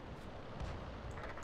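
The AMX 13 105 AM mle. 50 artillery gun fires in World of Tanks, a low muffled boom amid constant battle rumble, with no talk.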